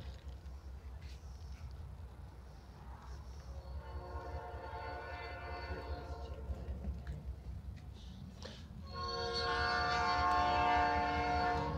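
A loud train passes nearby, rumbling steadily and building, with its horn sounding in long tonal blasts that swell louder toward the end.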